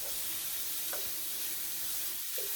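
Shrimp fry in a pan, a low steady sizzle running throughout while a spoon stirs them with a few light, quiet scrapes.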